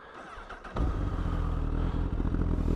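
A 2010 Honda Fireblade CBR 1000cc sport motorcycle engine cranks and catches, then settles into a loud, steady idle close by after a brief quieter lead-in.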